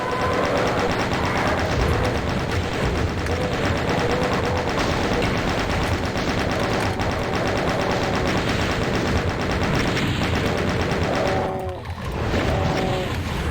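Rapid continuous automatic fire from a video game weapon disguised as a plasma rifle, a loud sustained rattling barrage with electronic tones and effects layered over it, no talk.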